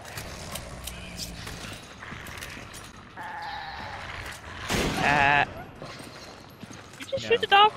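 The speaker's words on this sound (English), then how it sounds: "This goat's acting weird." In the Resident Evil 5 video game, a goat bleats in a few short wavering cries over game ambience and mechanical noise, with hoof-like clops and people talking.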